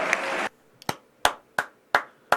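A brief burst of audience clapping for a former CIA director stops suddenly and gives way to a few isolated, sharp single claps spaced about a third of a second apart.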